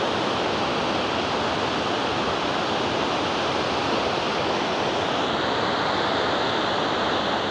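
A stream flowing out of a large pond, a steady, dense rushing of water that stays constant and fairly close throughout, with no voices.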